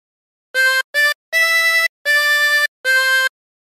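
Tremolo harmonica playing a short phrase of There's a River of Life: five sustained, reedy notes in a clear rhythm, two short then three longer, close and loud with no talk.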